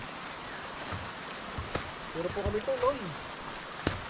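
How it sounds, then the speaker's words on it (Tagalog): Steady rain patters on a surface with scattered drops during a bitter gourd harvest, while a person speaks briefly partway through. "Talagang ulan."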